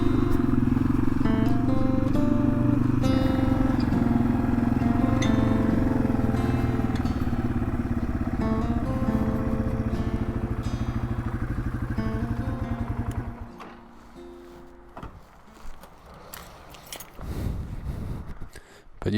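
A motorcycle with big fat tires runs steadily and loud at close range with a rich, even engine note, then cuts off partway through, leaving faint scattered clatter and rustling noise.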